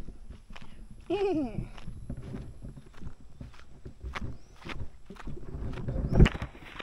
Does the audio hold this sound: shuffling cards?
no